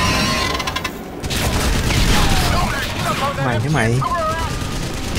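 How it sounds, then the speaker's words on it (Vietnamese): Sustained gunfire from a weapon emptied in the video game Crysis Remastered, loud and continuous through the clip, with someone talking over the shooting and whooshing in-game effects. "Thôi xả đạn cây này luôn đi."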